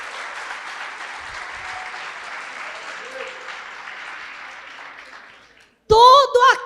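A church congregation applauds at a conference session, sustained even clapping for about five seconds that fades out, followed by a loud voice starting up at the end.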